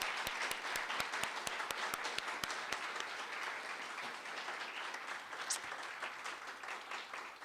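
Steady applause from an audience at a teaching celebration ceremony, dense and continuous throughout, with a few distinct nearby claps early on, heard at moderate distance without talk.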